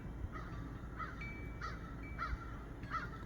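Several crows caw near their nest, about four harsh calls spaced roughly evenly over a steady background hiss, moderately distant and fairly faint.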